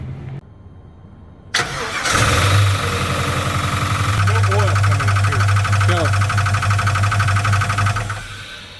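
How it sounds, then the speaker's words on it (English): A truck engine cranks and catches, then settles into a loud, steady run with an abnormal knocking noise from a fault inside the engine, close by, with people talking briefly over it. "see if we can figure out what's going on and what this noise is that it has in the engine"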